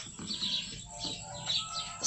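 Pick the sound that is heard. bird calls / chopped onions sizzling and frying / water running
bird calls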